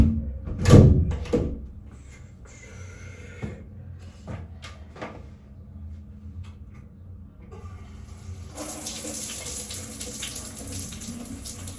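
Indoors at a sink or shower, a door or drawer knocks loudly near the start, followed by scattered clatter, then water from a tap gushes in a steady, close hiss that continues to the end, without talking.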